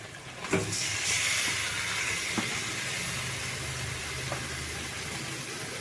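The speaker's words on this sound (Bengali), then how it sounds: "এই যে মাংসটা মশলা মাখা মাংসটা পুরোটা আমি এর মধ্যে দিয়ে দেবো।" Spice-marinated chicken drops into a hot pot with a sudden loud sizzle that settles into a steady, close hiss of frying, with no talking.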